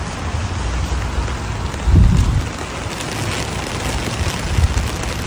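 Steady rain hisses across the whole clip with a low rumble swelling briefly near the middle, no voices.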